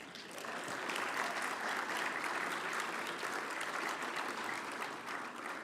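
Sustained applause from a dinner audience at a keynote dinner honoring Bill Lomax, a dense, steady wash of clapping that swells in and holds loud throughout, with no talk over it.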